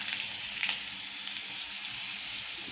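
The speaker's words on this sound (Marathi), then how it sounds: "आणि आता ही जी वाटण काढलेली मिरची आपली ती आपण याच्यामध्ये टाकतो।" Ground green chilli paste and cumin seeds hit hot oil in a pan while making a potato bhaji snack, giving a loud, steady, close sizzle that holds for a few seconds with no talking.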